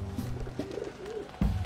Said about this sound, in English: So there's that bird.